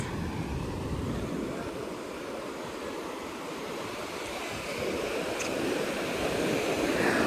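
Steady broadband roar of sea surf rolling in at a resort with a strong current, continuous and fairly loud, like waves breaking on a shore with wind mixed in.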